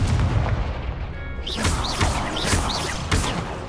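Spells are cast in the video game Hogwarts Legacy, with a series of booming, thudding magical blasts repeating roughly every half second, loud and punchy under a continuous rumbling background.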